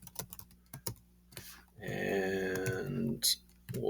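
Rapid clicks of JavaScript code being typed on a computer keyboard, close and crisp in an uneven burst, followed by someone talking over the quieter keys.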